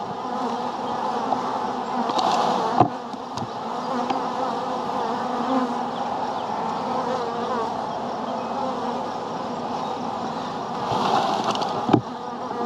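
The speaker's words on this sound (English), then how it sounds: "we have to shake all the bees down" Steady, dense buzzing of many honey bees close by as bees are shaken down into a hive box, continuous throughout with a couple of brief knocks and bumps.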